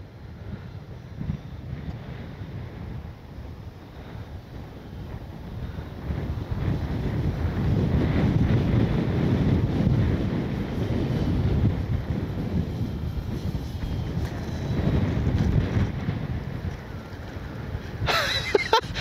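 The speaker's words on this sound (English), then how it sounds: "Whoa, gust right there at the end." Strong wind buffets an outdoor microphone in loud, steady gusts while a radio-controlled Corsair model plane is flown, rumbling throughout and swelling mid-way, with no talk.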